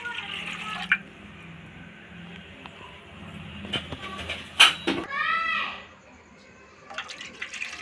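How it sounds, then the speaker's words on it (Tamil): Water is poured into a kadai pan for steaming eggs, giving a close splashing and rising gurgle that swells midway and then fades. "அந்த கடாயில் எனக்கு தேவையான அளவு தண்ணி சேர்த்துக்கிறேன்."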